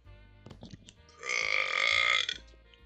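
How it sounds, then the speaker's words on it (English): A single loud, drawn-out burp lasts about a second, following a few soft clicks and thumps. "Sorry, I had a burp"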